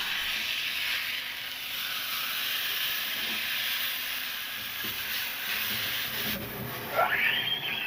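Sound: grease fire hissing

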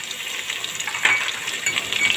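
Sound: stirring beef liver frying with bay leaves

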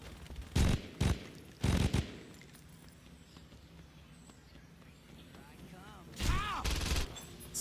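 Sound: gunfire in video game Saints Row 2

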